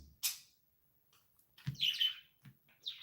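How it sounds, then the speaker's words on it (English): Pet birds chirp and squawk in short, scattered bursts indoors, moderately close, with quiet gaps between calls. "My birds play so much."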